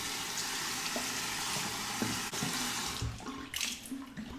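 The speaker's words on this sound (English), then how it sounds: "warm the bowl up under the hot water" Hot tap water pours steadily into a metal shaving bowl, a broad continuous rush with a few clinks and a shift in splashing toward the end.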